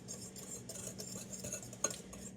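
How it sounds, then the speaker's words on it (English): Dry muffin ingredients with cinnamon being whisked in a bowl, a soft steady scraping and clinking of the whisk against the bowl with one brief sharper knock near the end, fairly quiet, no talking. "you need to whisk together all of your dry ingredients"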